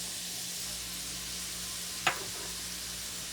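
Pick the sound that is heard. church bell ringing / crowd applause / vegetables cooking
vegetables cooking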